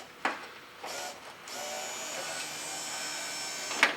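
An electric trunk lid motor on a 1934 Ford Coupe, powered from a temporary battery hookup, whines steadily for a couple of seconds after a few short starts and clicks, close and fairly loud, ending with a sharp clunk.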